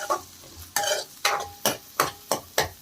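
Onions and green chillies frying in a pan for masala Maggi noodles, stirred in a steady rhythm of about eight loud scraping strokes over a light sizzle, up close with no talking.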